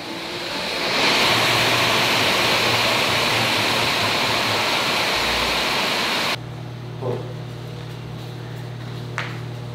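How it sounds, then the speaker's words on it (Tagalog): Heavy typhoon rain roars loudly as a dense, constant wash of noise, then cuts abruptly to a quieter background hum with a few faint knocks. "grabe yung bagyo."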